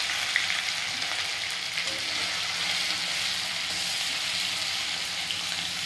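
Ginger garlic paste frying in a kadai on lowered heat, a close, steady, dense sizzle hissing continuously without pause.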